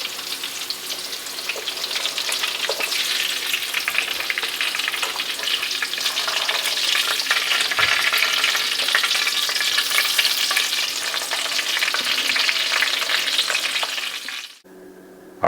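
Lamb chops fry in hot grease with a loud, steady sizzle and crackle that holds almost the whole time, then cuts off abruptly near the end.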